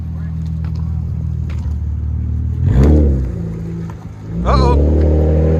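A 2003 Acura TL 3.2-litre V6 with a straight-pipe exhaust, resonator and muffler removed, idles with a deep rumble, then blips twice in loud, close revs that rise and fall sharply; a voice briefly speaks.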